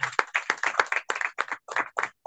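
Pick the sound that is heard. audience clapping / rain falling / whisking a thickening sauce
audience clapping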